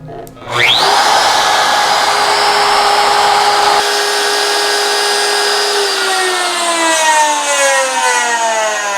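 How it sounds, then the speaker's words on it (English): A power tool cuts a dado into a wooden side panel for a Chippendale slant-front desk. It spins up quickly to a loud, steady whine that holds for several seconds, then the pitch slowly sinks as it winds down. "cut the dado down to that stop mark"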